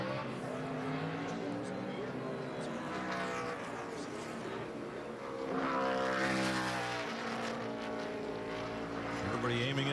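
NASCAR Sprint Cup race car lapping the Sonoma road course during 2015 qualifying, engine roaring and shifting as it passes, loud and close, with a voice talking over it.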